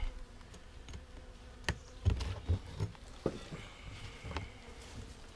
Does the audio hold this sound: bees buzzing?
yes